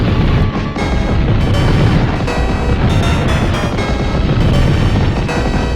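In Super Turrican 2, a robot spider boss explodes in a dense, continuous roar of booming blasts that rumbles loudly throughout.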